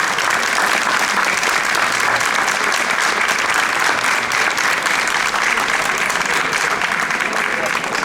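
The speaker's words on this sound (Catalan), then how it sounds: "demanem per amb ell un fort aplaudiment i una bona rebuda" Audience at an Easter caramelles choir performance in Alguaire giving a loud, sustained round of applause to welcome the new choir director, dense continuous clapping from a large crowd throughout.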